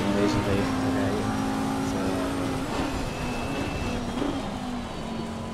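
Race car in the rain in Assetto Corsa Competizione, a steady engine drone with shifting pitch over hissing spray, fairly loud throughout and easing slightly toward the end, with some talk over it.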